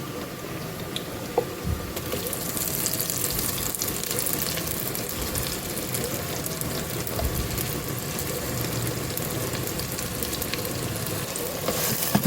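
Ground masala paste tips into hot oil with browned onions for a fish kuzhambu, a dense, loud sizzle that swells and stays steady, with a few soft stirring knocks.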